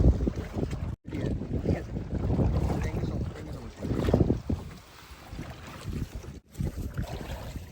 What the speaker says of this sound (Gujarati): અમે બેસી ગયા છીએ બોટિંગ કરવા માટે